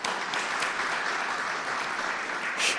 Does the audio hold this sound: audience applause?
yes